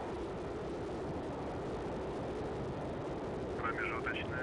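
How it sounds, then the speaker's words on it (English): Soyuz rocket engines igniting at launch, a dense continuous roar that holds steady throughout, with a brief higher warbling sound near the end. "We have ignition of the Soyuz."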